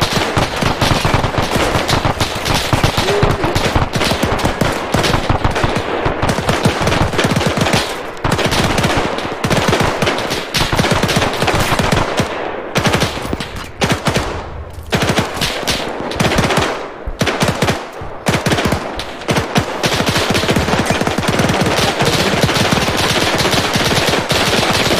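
MG42 machine gun fire in Arma 3's WWII Battle for Berlin, near the Brandenburg Gate: long rapid-fire bursts, loud and close, broken by short pauses, with other gunfire around.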